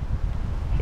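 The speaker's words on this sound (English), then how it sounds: "It's so windy out." Wind blows outdoors on a cold, gusty day, rumbling against the microphone in a low, steady buffeting with a stronger gust at the end.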